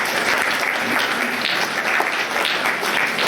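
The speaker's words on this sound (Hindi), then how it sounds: "आप इनके लिए तालियां बजाएं" A church congregation applauds steadily throughout during a Sunday service, a dense wash of many hands clapping at even loudness with no voices standing out.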